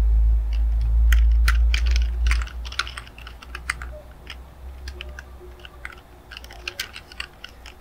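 Typing on a computer keyboard while composing ad text, a close run of quick irregular key clicks in bursts, with a low rumble at the start and no talk.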